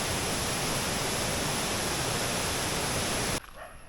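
Vattayi waterfall in Thrissur gives a dense, loud, steady rush of falling water that cuts off abruptly near the end, leaving faint background noise.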